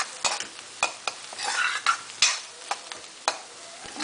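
Garlic sizzling in a pan of palak chana dal, stirred with a spoon that scrapes the pan in irregular strokes over a steady hiss, clear and close with no talk.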